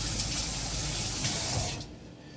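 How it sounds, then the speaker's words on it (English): A tap runs steadily with a broad close hiss of water while hands are rinsed beneath it, then the flow shuts off and only faint room noise remains. "I'm just going to wash my hands"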